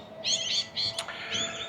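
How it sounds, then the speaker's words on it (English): Birds chirp at about eight in the morning on a quiet coastal walk: several quick, high twittering bursts and a sharp peep, moderately close over faint background hiss. "you can probably hear the birds"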